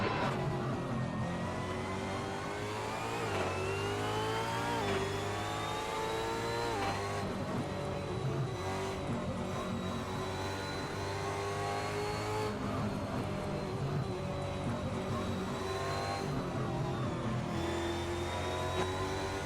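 Supercars race at Tailem Bend's international layout in the Assetto Corsa racing game, engines revving up and down through repeated gear shifts with rising whines, loud and continuous, other cars audible nearby, no talk.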